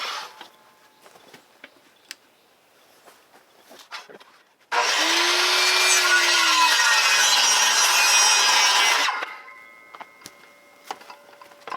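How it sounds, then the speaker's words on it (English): A single loud burst of broadband rasping from a hand saw cutting through timber for a timber-frame pergola, lasting about four seconds between quieter ticking and tapping. "Alright, let's go ahead and get sawing."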